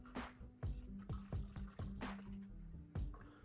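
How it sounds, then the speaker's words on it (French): A rum daisy cocktail poured slowly through a small funnel and strainer into a little vial, giving a series of soft drips and splashy trickles with faint glassy clinks, close and quiet. "Alors, on va le servir dans notre petite fiole. Voilà, on a le petit entonnoir qui va bien."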